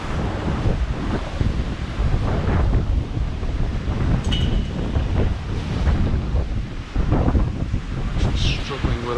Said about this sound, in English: it really is blowing really strongly because it's very, very windy.